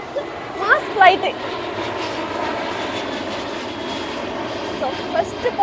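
A Malaysia Airlines jet takes off at KLIA airport in Malaysia, a steady broad engine roar holding throughout at moderate distance, with people talking over it.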